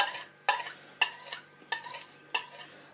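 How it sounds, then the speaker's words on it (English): A knife trims pastry around the rim of an apple pie dish with five sharp scraping clicks spaced about half a second apart, close and fairly quiet, with no talking. "I'm going to trim my pastry right the way around."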